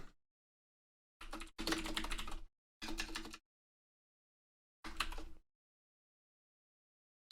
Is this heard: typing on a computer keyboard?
yes